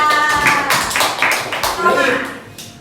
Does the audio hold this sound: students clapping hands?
yes